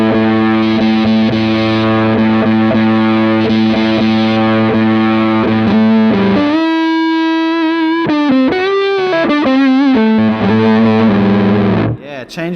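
Electric guitar through a JHS Crimson fuzz pedal, distortion and tone knobs at middle, heavy fuzzy distortion, sustained chords and then bending, wavering notes, loud and continuous, ending abruptly.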